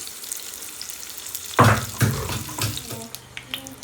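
Hot oil in a pan for a fish curry sizzles steadily, with a sharp louder crackle partway through and a hiss that continues, close by and with no speech.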